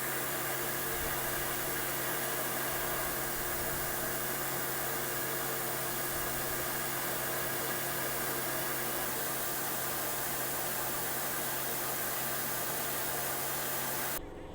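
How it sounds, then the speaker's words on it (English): A CNC machine thread mills a screwdriver part, giving a steady, faint broadband hiss and hum of the spindle and coolant that holds evenly for about fourteen seconds with no voices, then cuts off. "And now thread milling."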